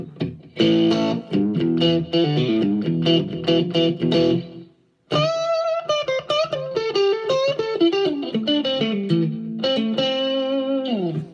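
Electric guitar played through a Headrush amp-modeling rig with reverb, distorted bluesy riffs and bent single-note lines ringing out loudly, with a short gap before a new phrase starts.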